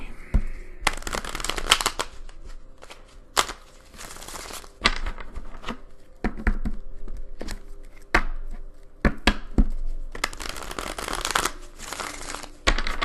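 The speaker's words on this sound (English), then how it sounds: "I'll give y'all 3 shuffles today." Tarot cards are riffled and shuffled repeatedly in quick bursts of crisp slapping and fluttering, with short pauses between rounds.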